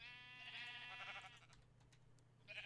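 A sheep in Minecraft lets out a loud, drawn-out bleat, with a second bleat starting just at the end; no one speaks.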